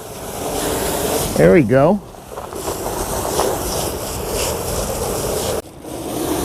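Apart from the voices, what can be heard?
water spray rinsing a Jeep rear cargo mat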